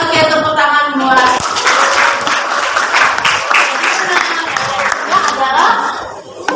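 Students in a geometry classroom clap for a classmate's correct answer, a brisk burst of many hands clapping close by, with voices talking and some chuckling over and around it.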